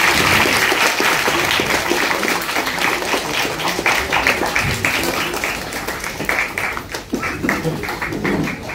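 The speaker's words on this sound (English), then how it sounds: "Can we have a round of applause," Steady audience applause fills a hall at a talk session in Kolkata, dense clapping from many hands sustained throughout without a break, fairly loud and close with faint crowd murmur beneath.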